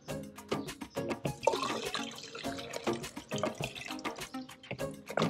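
Petrol poured into a container for a Suzuki Swift fuel consumption test, a steady gurgling, splashing liquid stream close up with bubbly glugs throughout.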